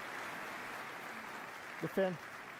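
Audience applause for Corey and Matt at a presentation during Unreal Fest Orlando 2025: a steady, even wash of clapping for the whole stretch, with a brief voice breaking in near the end.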